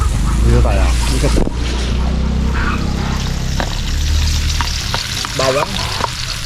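Onions frying in a hot pan as they are stirred, a loud close sizzle with scraping strokes throughout, and a voice speaking briefly over it at moments.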